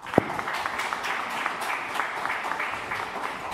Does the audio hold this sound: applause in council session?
yes